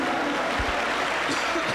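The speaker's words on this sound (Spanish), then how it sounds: "Aplausos para el Señor Jesús" A Pentecostal church congregation applauds after a praise song, a continuous wash of many hands clapping together at full strength, with some voices mixed in.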